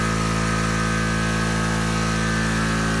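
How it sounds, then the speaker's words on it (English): Electric drill powered by a generator through an inverter, a loud, steady motor whine with a constant hum that runs unbroken from start to end, with no talking. "Okay, so we're gonna turn on the drill."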